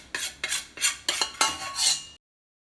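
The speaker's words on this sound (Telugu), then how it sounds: "ఇప్పుడు దీన్ని వెంటనే ఒక ప్లేట్లోకి వేసేద్దాము" Hot Mysore pak mixture is scraped out of a pan onto a plate with a metal utensil, about six loud, rasping strokes in quick succession, close up, then silence.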